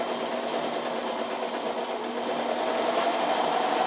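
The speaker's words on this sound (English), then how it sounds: "First round, we want to stitch the short end of our neck band." A serger sewing machine stitches the short end of a knit cardigan neck band, a steady, fast mechanical whir that runs close and loud through the whole stretch with no voices.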